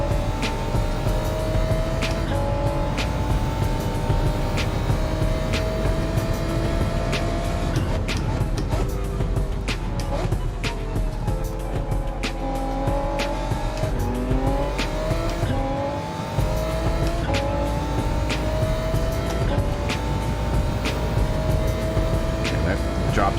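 A Corvette race car in Gran Turismo 7 races with a loud, continuous engine roar, its pitch rising and falling through gear changes, with other cars and a faint tire squeal mixed in.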